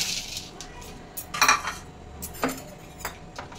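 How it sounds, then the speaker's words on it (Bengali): Flattened rice (chira) washed in a bowl, with scattered metallic clinks and knocks of a utensil against dishware over soft wet rustling, close up and fairly quiet. "নিয়েছি আমি অর্ধেক বাটি চিড়েটা আমি ধুয়ে নেব।"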